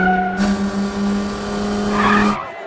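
A car in a race scene from a South Indian action movie, with a sharp, loud tire squeal and engine whine during a two-second skid, sudden onset and cutoff, no voices.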